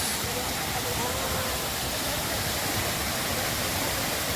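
A waterfall spilling through a pipe at a bathing spot gives a steady, loud rushing roar of falling water that fills the whole stretch without a break.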